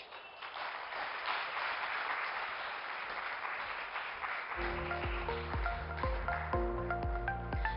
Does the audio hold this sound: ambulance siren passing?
no